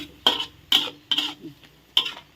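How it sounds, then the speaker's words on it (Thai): Ginger and chicken stir-fried in a pan, four sharp scraping strokes of a utensil against the pan at regular intervals over a low sizzle, close and clear with no talking. "ใส่ขิงแล้วก็ให้ผัดให้สุกจักน้อยนะจ๊ะ สุกจักน้อย ผัดให้ใกล้สุกอีกทีก่อนนะ"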